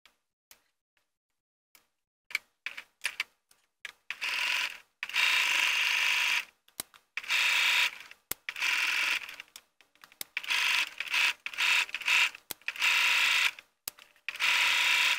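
A sewing machine stitching around the edge of a fabric pocket, running in short bursts of steady mechanical whirring separated by pauses and small clicks, close and clear with no talking.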